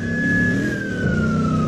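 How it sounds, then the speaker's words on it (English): A police car siren from the Roblox game wails continuously and loudly, holding a steady pitch that slides slowly downward, with a rumbling vehicle engine beneath and no voices. "this siren is getting annoying"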